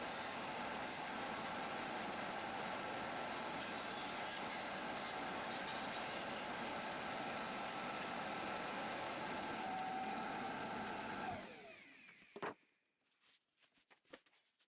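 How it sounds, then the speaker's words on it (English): A disc sander cuts the corners of 2x4 wood pieces, its motor running in a loud, steady whir for about eleven seconds before it shuts off and trails into a few faint clatters and taps. "I cut them on the disc sander as it wasn't much to cut to begin with."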